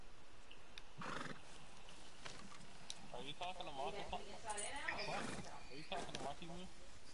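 A horse in the video game Red Dead Redemption 2 whinnies and snorts in a couple of shrill neighing bursts, with hooves clopping, under people talking over it.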